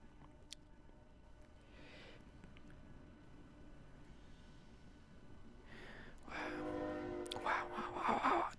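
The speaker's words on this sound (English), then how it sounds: "Wow, there's a train going by, can you hear it? Train." A train rumbles past nearby, its noise swelling over the last few seconds with a bright, harsh screech of wheels or horn tones.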